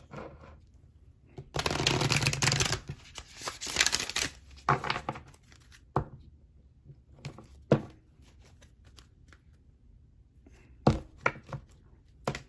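A deck of Work Your Light Oracle cards being shuffled nearby, a long dense riffling burst followed by scattered brisk flicks and taps, no talk.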